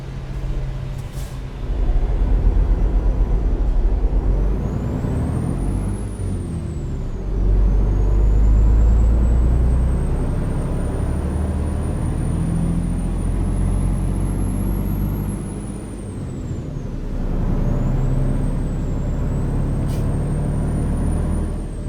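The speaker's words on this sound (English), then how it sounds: "That truck has a nice sounding Jake brake." Heavy truck engine brake in American Truck Simulator, a deep continuous rumbling drone that swells and eases over about twenty seconds, loud and steady with a faint high whine above it and no talk.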